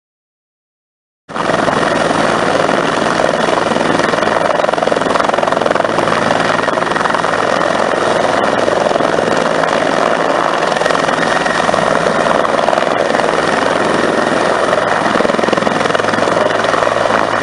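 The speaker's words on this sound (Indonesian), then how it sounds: "ada helikopter." A toy helicopter whirs steadily and loudly from start to finish after a short silent opening, with a constant buzzing rotor drone.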